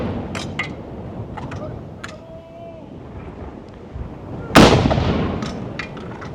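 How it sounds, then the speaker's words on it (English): A cannon fires a gun salute: a single loud, sharp boom rolls into a long fading echo. Scattered clicks and faint background sounds come before it. "So as you can see, while they're firing the salute"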